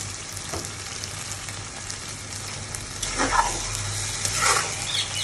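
Onion-frying oil with garam masala and bay leaf sizzling in a pan, a steady crackling hiss with sharper spits and pops swelling toward the end, fairly close and without talk.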